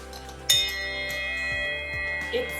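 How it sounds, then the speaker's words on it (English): A single bright metallic ring from a brass bell strikes once and hangs on, a sustained tone slowly decaying, with faint handling clinks near the end. "Look at this brass bell"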